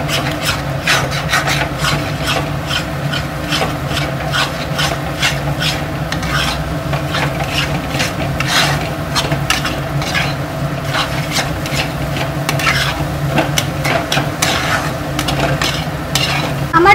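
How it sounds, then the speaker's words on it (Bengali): Egg bhurji cooked with masala over a high flame, stirred steadily in the pan, giving a continuous scraping, rasping stir under a constant, loud sizzle of frying for the whole stretch. "হাই ফ্লেমে রেখে আমি মশলার সাথে এই ভুজিটা বানিয়ে নেব।"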